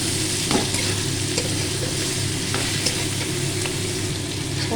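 Onion and prawns fry with turmeric and red chilli in a pan, giving a steady close sizzle with a few soft stirring scrapes throughout.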